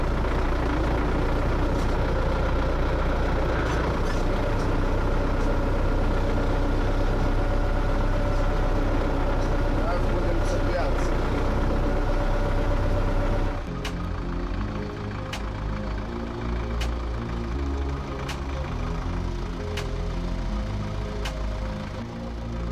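MTZ tractor engine idling on a rural farm, a steady low diesel rumble that runs continuously, shifting to a sparser, lumpier chugging partway through, with no talking.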